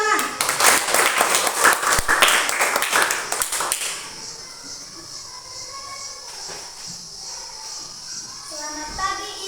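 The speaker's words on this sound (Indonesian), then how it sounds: "Tepuk tangan." Pupils in a classroom give a quick round of applause, loud, dense clapping for about four seconds that stops abruptly, followed by quiet room sounds and faint voices.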